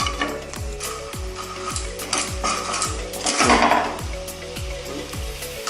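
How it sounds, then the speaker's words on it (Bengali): Sugar melting in a pan for tamarind chutney, stirred with a spoon that scrapes in regular repeated strokes over a low frying hiss, close and fairly loud. "এখন আমি চিনিটাকে গলাচ্ছি"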